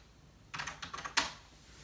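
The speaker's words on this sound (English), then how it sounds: "I love the sound of these old keyboards." Keys clatter on an old computer keyboard while a Linux command is typed on an Apple TV setup, a quick burst of close, crisp clicks ending in one louder keystroke.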